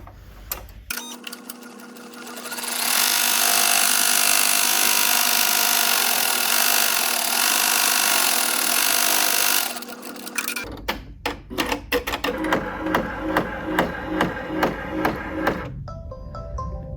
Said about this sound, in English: you're going to get the machine to do the next stitch